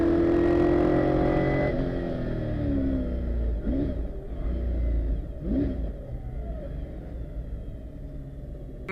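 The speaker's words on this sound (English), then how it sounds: "He unleashes the V8's power up the finishing straight to cross the line" A McLaren M6 GT with a 5-litre Chevrolet V8 accelerates up the finishing straight of the Shelsley Walsh hillclimb, a loud, deep engine roar with rising revs and gear changes that gradually recedes.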